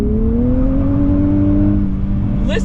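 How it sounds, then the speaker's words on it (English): A 2023 Nissan Z sports car of about 400 horsepower pulls hard in second gear, its engine note rising steadily and loudly while the tires strain for grip, heard close up from inside. "Those tires are just struggling to keep up."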